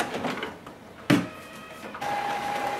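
An HP OfficeJet Pro 9120e inkjet printer running a print job, with a close mechanical whir, a sharp clack partway through, then a steady motor whine to the end.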